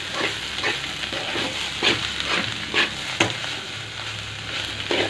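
Cabbage with potato frying in a pan, a steady moderate sizzle with spatula scrapes and stirring thumps at irregular intervals.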